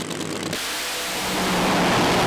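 A funny car on a drag racing run at Santa Pod Raceway makes a loud, continuous roar that starts with a sudden shift and builds into a sustained, rising engine blast lasting a couple of seconds.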